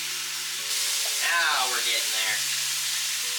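Ground beef sizzles and crackles steadily in a hot pan as a big hunk is chopped apart, with a voice talking over the frying.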